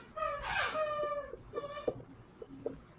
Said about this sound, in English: Yeah, it's my dog.